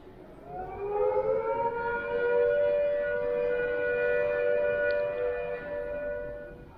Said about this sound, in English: When the immediate danger of air attack or fallout is passed, the siren will sound a steady note like this.